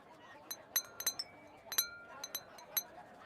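Glassware clinks in a quiet kitchen while peach iced tea is made with ice and rock sugar. The bright, ringing taps come close and clear, some singly and some in quick clusters, with short pauses between them.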